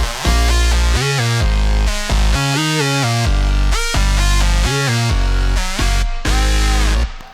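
A loud, dense synth track plays continuously, a bright lead melody riding over thick bass and sustained chords that are sidechain-cut by the lead.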